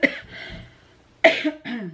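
A person coughs twice close up, each cough a short harsh burst followed by a softer tail, separated by a brief pause.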